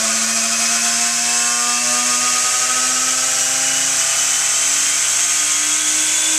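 A large 2.25 HP universal motor whines loudly at full speed, a steady high-pitched hum with a slight upward pitch drift and an even buzz, with no talking over it.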